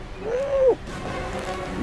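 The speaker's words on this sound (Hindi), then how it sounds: "तभी पेड़ पर बैठा उल्लू जोर से चिल्लाया" A single owl cry rises and bends in pitch for under a second, then fades into a quiet night background.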